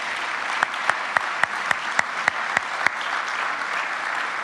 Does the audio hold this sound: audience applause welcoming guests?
yes